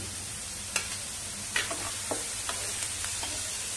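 Bitter gourd stir-fried in a pan with tamarind-jaggery pulp: a steady, soft sizzle broken by several sharp spatula clinks and scrapes at an uneven pace, close by, with no talking.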